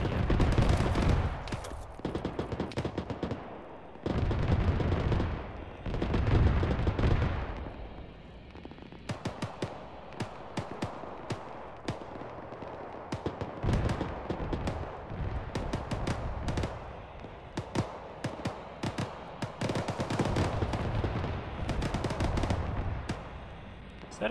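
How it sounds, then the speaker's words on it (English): Autocannon fire in Arma, rapid bursts of heavy gunshots in several separated volleys, some loud and close, others fainter and more distant, with no talk. "Yeah, autocannon east southeast."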